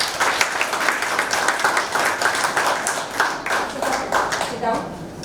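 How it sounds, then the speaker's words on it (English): An audience at a medical education session claps in a sustained round of applause, dense and steady throughout, with voices faintly mixed in. "Round of applause."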